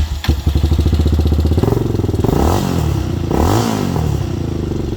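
A 2003 Yamaha Raptor 660 ATV starts with a quick crank and settles into a loud, close, lumpy single-cylinder idle, with two short throttle blips toward the end.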